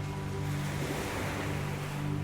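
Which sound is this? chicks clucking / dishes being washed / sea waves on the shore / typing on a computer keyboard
sea waves on the shore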